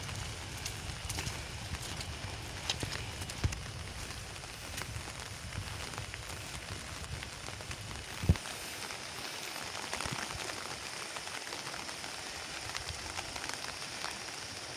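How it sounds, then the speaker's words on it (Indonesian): Steady, dense hiss of rain falling on surfaces, continuous and fairly soft, with an occasional thump nearby. "hujan gede"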